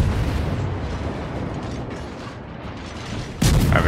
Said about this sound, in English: apparently we're just gonna shoot our guns